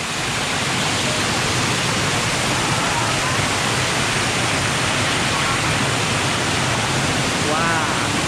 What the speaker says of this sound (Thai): อันนี้น้ำตกชั้นที่5